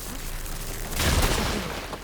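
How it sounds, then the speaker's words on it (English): An explosion in the video game Horizon Forbidden West inside an underwater facility, a sudden loud blast with a rumbling low burst rising out of steady background ambience and fading over about a second, no speech. "An explosion?"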